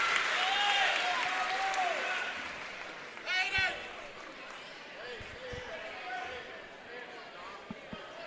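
Crowd applause and cheering at a high school state tournament basketball game after a made free throw, steady and moderately distant under a commentator's voice, with a short swell and a few sharp court thuds.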